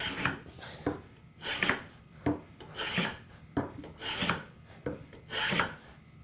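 Hand plane taking several passes along a sawn wooden board, each stroke a sharp rasping swish, regular and close, about eight strokes with brief pauses, no talk.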